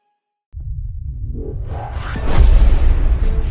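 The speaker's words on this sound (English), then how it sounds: "That sound is the explosion of a supersonic wave." A deep, rumbling boom from an asteroid entering Earth's atmosphere builds over a few seconds into a loud roaring blast with a rising whoosh, heard alone with no speech.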